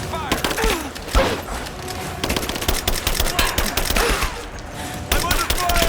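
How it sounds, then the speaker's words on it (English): Suppressing gunfire in Rise of the Tomb Raider, rapid overlapping bursts of automatic fire with sharp cracks and thuds, loud and nearly continuous over about six seconds, shouted voices mixed in. "Suppressing fire!"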